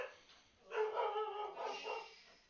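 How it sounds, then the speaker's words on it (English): A dog indoors barks and yips in a short run of rough, mid-pitched woofs close by in a quiet room. "Sorry for the barking a little bit."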